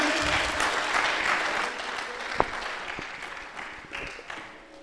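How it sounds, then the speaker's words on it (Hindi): Audience at a radio convention applauding a woman presenter, a steady wash of clapping with a few sharp individual claps standing out, gradually thinning toward the end. "एक बार जोरदार तालियां मधु मैम के लिए"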